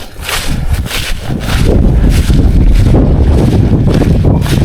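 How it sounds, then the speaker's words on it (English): Strong wind buffets the microphone on the water while fly fishing, in loud, low rumbling gusts that grow steadier and heavier after the first couple of seconds. "Really wish it wasn't as windy"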